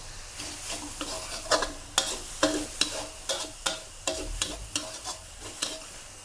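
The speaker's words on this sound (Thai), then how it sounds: "คั่วทุกอย่างแห้งก่อนนะคะ" Galangal chili paste is being dry-stirred in a pan, with a steady rhythm of spatula scrapes about twice a second over a soft sizzle, close and fairly quiet.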